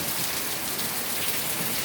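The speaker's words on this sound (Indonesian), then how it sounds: "Kita hujan-hujanan." Heavy rain falls on surfaces outside a small grocery shop, a loud, even patter with no voices.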